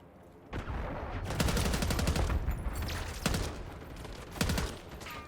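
Bursts of GPR-91 assault rifle fire in the Black Ops 6 video game, loud rapid volleys starting after a brief pause, with several heavy crackling strings across the clip.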